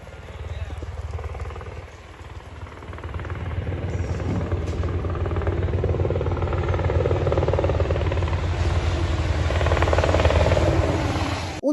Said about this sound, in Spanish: llamó la atención el sobrevuelo de un helicóptero del ejército